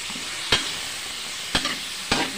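Chicken sizzling in its own juices in a pan, a steady frying hiss with three brief louder bursts as it is stirred.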